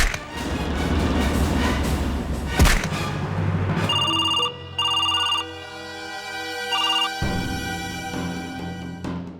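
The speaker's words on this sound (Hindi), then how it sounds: "हर 2 मिनट में फोन बज रहा है।" A telephone rings in a loud series of repeated electronic trills with short gaps, following a thud and crash in a dramatic indoor scene.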